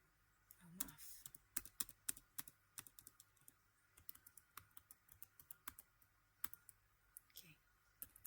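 Rapid, uneven keystrokes clatter on a computer keyboard as MATLAB and Python code is typed, close and crisp in a quiet room with a faint background hum.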